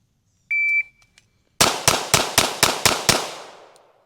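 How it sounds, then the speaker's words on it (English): Seven rapid pistol shots from a Staccato XC, loud, sharp cracks in a quick even string lasting about a second and a half, preceded by a brief electronic beep, with no talk. "I love how I thought it was controlled, but I still did 7 shots instead of 6"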